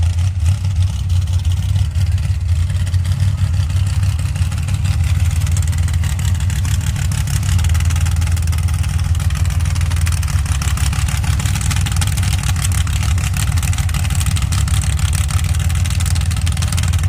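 A drag racing car sits at the starting line of a pro bracket elimination, its engine running with a steady, loud low rumble and a continuous hiss-like roar throughout.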